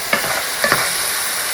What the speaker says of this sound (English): But you can hear it, the sizzle calming down. We're going to brown this meat nicely.